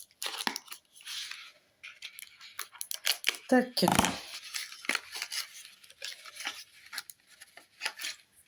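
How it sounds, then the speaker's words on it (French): Scissors snipping open a package wrapping, with crisp cuts and rustling bursts scattered through the clip while someone speaks in French nearby. "Enfin, ma paire de ciseaux."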